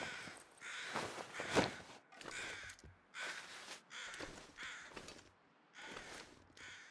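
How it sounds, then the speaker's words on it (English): Crows cawing in the snowy survival video game The Long Dark, several loud harsh caws in separate bursts, fairly close and with no talking. "There's a bunch of crows."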